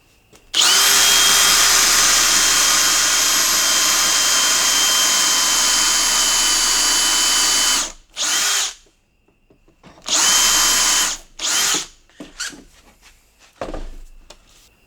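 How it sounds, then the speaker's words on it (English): A power drill pre-drilling screw holes for a shelf whines loudly and steadily for about seven seconds, then runs in two shorter bursts with brief pauses, close by and with no talking. "now what I can do is I can pre-drill for some screw holes."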